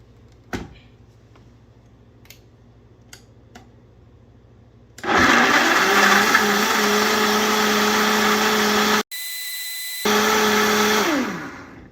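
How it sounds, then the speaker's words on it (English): A countertop blender whirs loudly through a batch of butternut squash soup with zucchini and corn, starting after a few quiet seconds of small clicks, pausing briefly, then running again before spinning down. "So we are going to now blend this all together."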